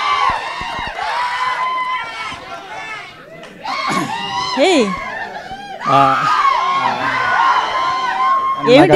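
An audience at a movie teaser launch event cheers, whoops and shouts, loud and sustained, with surges of screaming and laughter mixed with voices over the crowd.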